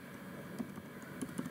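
Soft keystrokes on a computer keyboard tap out a short web address, a few faint scattered clicks at close range with quiet room noise between them.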